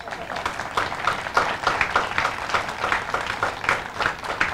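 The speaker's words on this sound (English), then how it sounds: "I don't mind if you give that a round of applause" Applause from a crowd at a Moral Monday rally in Franklin, North Carolina, a thinner, uneven patter of clapping hands, with some voices mixed in.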